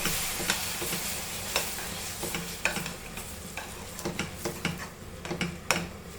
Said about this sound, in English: And fry this masala also very nicely.